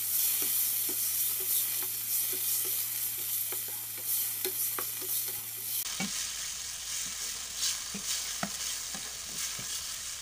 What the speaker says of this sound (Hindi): ऑयल ऐड कर लेंगे एक पैन में एंड इसमें चिकन ऐड कर देंगे एंड इसे कुक करना स्टार्ट कर देंगे